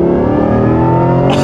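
A 2024 Corvette E-Ray Hybrid with all-wheel drive accelerates hard, its loud engine drone rising steadily in pitch with a thin electric whine over it, close inside the cabin and without talk.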